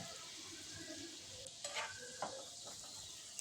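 Tomato masala frying in a pan for egg kopta curry, a soft continuous sizzle with a few scraping stirs of a spatula, quiet and close with no speech.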